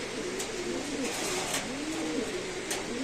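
Racer pigeons coo in low, rolling murmurs under a steady wash of background noise, with faint talk at times.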